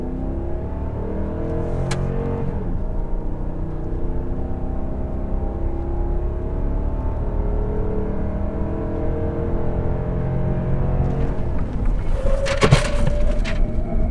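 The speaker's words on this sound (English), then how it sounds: "60 to 0, we're going to do braking distance" A 2014 Ram HD pickup with the 6.4L Hemi V8 brakes hard from 60 mph to a stop, giving a steady close rumble of engine and road noise with a brief sharp squeal near the end.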